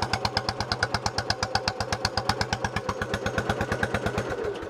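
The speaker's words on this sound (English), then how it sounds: "That is not as loud as the last muffler, and it's definitely not as obnoxious." A motorcycle engine idles through a Craftsman stainless exhaust muffler, its firing pulses thumping in a fast, even rhythm close by with a clattery mechanical edge.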